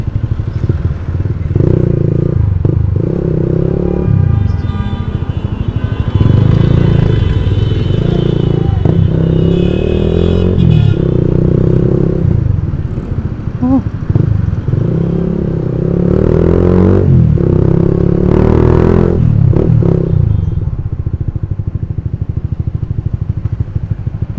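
A motorcycle engine revs repeatedly in loud, rising and falling bursts, with the revs hanging high and dropping slowly after each blip; the engine note runs continuously and close throughout.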